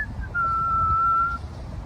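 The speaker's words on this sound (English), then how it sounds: "Pepe whistles and waters the plants." A person whistles a single steady, clear note, held for about a second at close range with no other sound around it.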